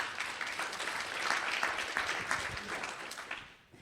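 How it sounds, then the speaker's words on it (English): Audience applause at a policy symposium on electric vehicles, a steady wash of clapping from a room of people that holds for several seconds and fades out at the end. "So please give them a round of applause and welcome them."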